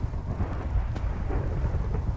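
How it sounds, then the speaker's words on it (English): Rain and a thunderstorm in the Minecraft video game, a steady low rumbling wash of rainfall with thunder-like depth, continuous and moderately loud with no talk. "Oh dear, a storm is coming."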